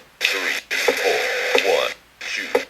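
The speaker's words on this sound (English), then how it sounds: "retro electro sampler sound of lower bit rates" Bit crusher effect on a live-sampling drum machine app, harsh lo-fi digitally degraded sample bursts in three chunks, gritty and buzzy, played alone.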